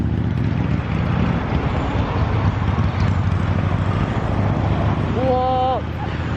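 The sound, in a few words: Paton S1-R motorcycle riding on Isle of Man TT course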